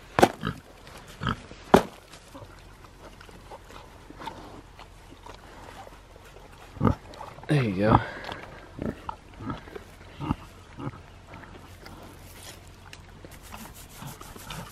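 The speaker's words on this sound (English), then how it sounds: "as cool as the sound of a pig eating. They chew with their mouths open and they munch and munch." American guinea hogs eating a half-frozen pumpkin: close, wet open-mouthed chewing and munching with scattered crunches and a few sharp knocks, while a person speaks briefly.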